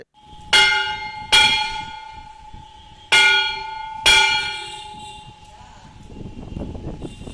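A historic time bell at the Shahi Imambara in Kolkata, struck by hand with a hammer, rings out four loud metallic strokes in an uneven rhythm, each leaving a long shimmering ring that fades under soft background noise.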